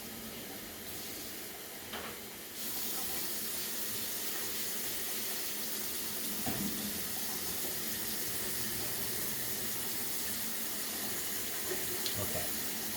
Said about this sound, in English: We're going to take our water cup. We're going to rinse it out.